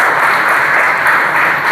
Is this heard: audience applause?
yes